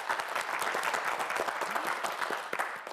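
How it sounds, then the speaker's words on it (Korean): A studio audience at a televised quiz show bursts into applause, many hands clapping in a dense, steady patter that stays loud and close throughout the short burst, with no talk over it. "파이팅 외치면 큰 박수 보내주세요."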